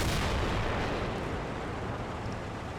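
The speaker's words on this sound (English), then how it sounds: "Spooker took a pot shot" A tank cannon shot in the Combat Mission Final Blitzkrieg war game, a loud broadband boom that stays as a heavy rumbling roar for the whole stretch, with no talk over it.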